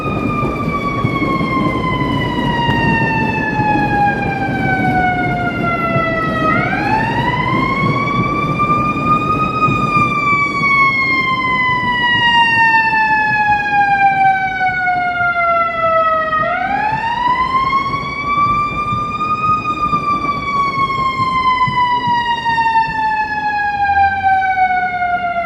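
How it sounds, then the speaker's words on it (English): An ambulance siren wails loudly and continuously on a downtown Chicago street, its pitch sweeping down and up in long repeated cycles over steady traffic rumble. "I hear a siren coming, so I better get across the street."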